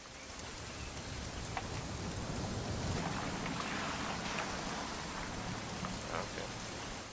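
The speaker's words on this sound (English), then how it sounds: "It's gonna rain the whole weekend, isn't it?" Steady rain in the video game What Remains of Edith Finch, a dense, even hiss with scattered droplet taps holding constant throughout.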